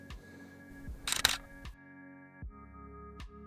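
A camera shutter fires once during a slow, wide-angle exposure at ISO 100 and f3.5, giving a short mechanical clatter in a quiet room with a low steady hum underneath.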